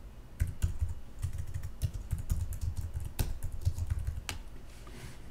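Rapid typing on a computer keyboard while text is edited in After Effects, with steady irregular key clicks and a few sharper louder strokes, close and alone.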